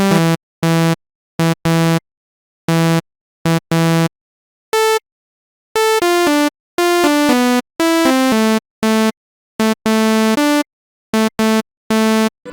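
A buzzy Serum synth groove at 117 BPM plays choppy, staccato bursts of harmonic-rich notes separated by silent gaps, a syncopated pattern shifting pitch across the bar, loud and clean with no voices.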